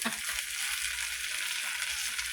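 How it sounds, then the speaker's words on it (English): Food sizzles steadily in a hot pan, a continuous crackling hiss with no talking. "If you're not hearing that sizzle"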